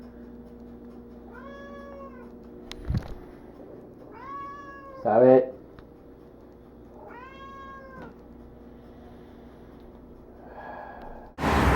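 A house cat meows three times in separate drawn-out calls, close and moderately loud, with a brief sharp noise and a muffled thump between them and a voice speaking briefly.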